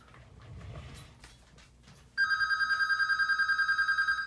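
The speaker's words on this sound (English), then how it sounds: "we have to let this just go to voicemail" A telephone rings in a steady repeating electronic trill, loud and close, starting partway through after a stretch of quiet room noise.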